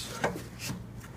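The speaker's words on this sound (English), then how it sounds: "I'm going to hook a clamp kind of over the edge here." Clamp hooked over the edge of a wood lamination for a quilt rack, giving a few short, soft wooden knocks and scrapes at close range.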